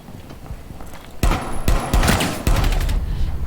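Gunfire in the video game Rainbow Six: a quiet lead-in, then a sudden loud burst of rapid shots with several sharp cracks in quick succession, sustained and close.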